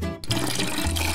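Water pours into a tank in a short, full, steady gush, close and continuous.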